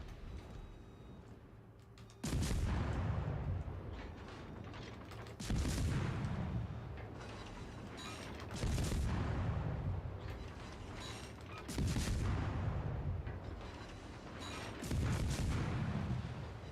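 Naval guns firing in World of Warships Legends, several heavy booming salvos at regular intervals of about three seconds, each with a low rumbling tail, over steady ship and engine ambience.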